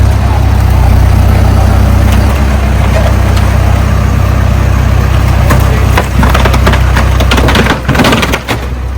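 A backhoe breaks up and tears down a wooden billboard, its loud engine rumbling throughout, with sharp cracking and splintering bursts near the end.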